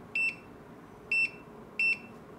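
Retekess TD173 pager system keypad sounding three short, bright electronic beeps, evenly spaced about a second apart, over a faint room hiss.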